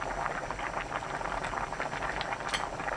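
Cheonggukjang stew with soft tofu bubbling vigorously over high heat, a steady close-up mass of small popping bubbles at low volume with no voices.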